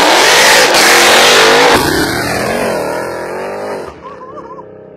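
A 1300-horsepower Jeep Trackhawk roars at full volume through a hard rev, then drops to a rumbling, lower idle with a faint high whine near the end, close and loud with no talking.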